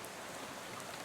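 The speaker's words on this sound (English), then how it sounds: "soon you're dozing off to the sound of rain spattering on the window beside you" Rain spatters against a bus window in the game Shadows Over Loathing, a soft, steady patter at low volume with no voices.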